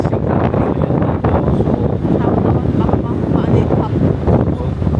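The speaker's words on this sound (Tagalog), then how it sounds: "lakas ng hangin" Strong wind buffets the microphone in a constant loud rumble, with waves or water faintly beneath the roar.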